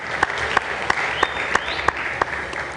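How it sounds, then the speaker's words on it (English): An audience at a citizen assembly in Nairobi applauds a departing panelist, a dense, steady wash of clapping with a few sharper, closer claps punctuating it at a regular pace. "A round of applause for Hussein as he leaves the panel"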